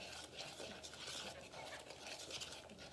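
A whisk scrapes steadily through confectioner's sugar and water in a bowl, giving a close, continuous rustling stir with faint rhythmic pulses.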